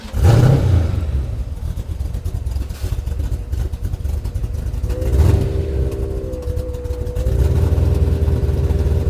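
A 1937 Chevrolet sedan engine idles with a low rumble, then a rising hum joins the idle and holds steady at close range, with no talking.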